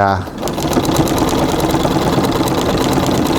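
A treadle sewing machine stitches a full-sized quilt with a steady, fast mechanical whir and rhythmic clatter running continuously and close, after a brief pause at the start.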